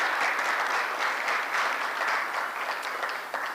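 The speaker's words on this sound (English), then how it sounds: "Kindly let us applaud them." A dense, steady burst of applause from a large audience, loud and sustained from start to finish with no voices above it.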